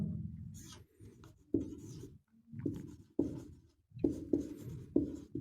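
Marker strokes on a classroom board during an English grammar lesson, a series of short scratchy bursts with brief pauses between them, close and moderately loud with no talking.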